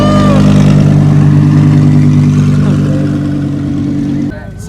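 Car engine revving at an evening car meet, a loud sustained droning roar held steady close by, then cutting off abruptly near the end.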